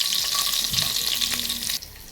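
Oil sizzling and frying meat in a pan, a steady close hiss with occasional stir scrapes and a brief quieter dip near the end.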